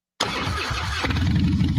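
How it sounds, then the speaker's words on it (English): A popular American motorcycle engine fires up abruptly and settles into a loud, close, rumbling idle with a throaty, uneven low pulse and a slight rise in revs, heard alone without talk. "This is the sound of a popular American motorcycle."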